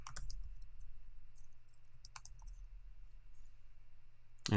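Computer keyboard keys tapped in a short burst, then a few scattered clicks over a low steady hum, close and quiet with no voices.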